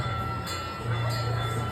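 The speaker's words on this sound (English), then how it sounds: "welcome aboard the Kemah Boardwalk Railroad, a gas-powered handmade replica of an 1863 Central Pacific steam engine train" A gas-powered handmade replica of an 1863 Central Pacific steam engine train at the Kemah Boardwalk runs with a steady mechanical rumble and hum, heard close from aboard, with a faint voice underneath.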